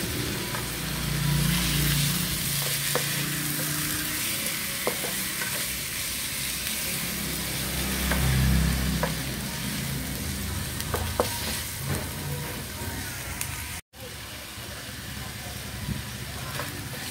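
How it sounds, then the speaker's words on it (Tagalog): Chicken, still partly frozen, sautéing in a pan for adobong kangkong, a steady close sizzle with occasional stirring scrapes and clinks running throughout, swelling briefly twice. "nagisa ko na yung ating chicken"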